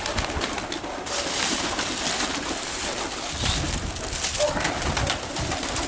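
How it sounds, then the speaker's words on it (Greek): Pigeons coo in low repeated murmurs at a loft in Perama, close and continuous, with a few wing flutters and other bird calls mixed in and no talking. "Μια χαρά είναι τα πουλάκια."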